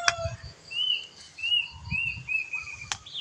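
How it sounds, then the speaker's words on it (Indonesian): A bird gives a series of thin, high whistled calls, repeated a few times at moderate distance, with soft rustling and low background noise. "Ada suara burung aneh, mana burungnya ya?"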